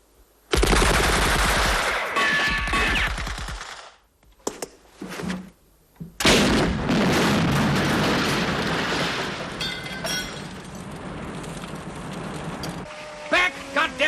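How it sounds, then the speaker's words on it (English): Rapid gunfire from the church belfry, mill house and pub in a wartime village battle, with loud bursts and rattling volleys, a brief lull, then sustained firing mixed with shouted voices. "We're getting fired from the church belfry, the mill house, the pub."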